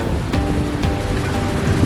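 Strong sea waves pounding a beach roll in as a steady, broad roar, with gusting wind buffeting the microphone and no voices.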